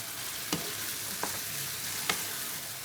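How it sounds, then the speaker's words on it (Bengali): Meat frying and sizzling steadily in a pot for Orosh biryani, a continuous close crackle with a few sharp stirring scrapes punctuating it. "এরপর আমি এটা কিছুক্ষণ এভাবে 5-6 মিনিটের মতো এভাবে হালকা একটু কষিয়ে নেব"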